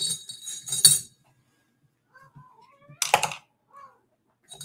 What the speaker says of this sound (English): Well, you're a talkative cat.